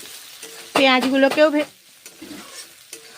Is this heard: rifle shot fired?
no